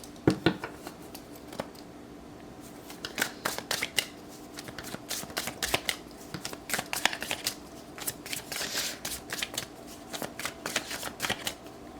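Tarot cards are pulled from a deck and shuffled by hand: a steady run of crisp riffling and slapping card sounds, close and fairly loud, with brief pauses between bursts and no talk.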